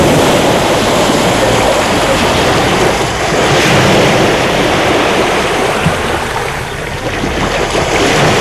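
Steady roar of ocean waves on the seaside at Palompon, Leyte, a dense wash of surf noise that fills the whole stretch without pause, loud and close, with no voices.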